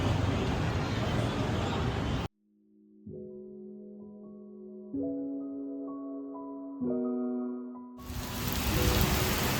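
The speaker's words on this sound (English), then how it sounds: "It's raining so hard right now." A heavy rainy-season downpour makes a dense, loud hiss at the start and again at the end, separated by a stretch of quiet music with sustained chords.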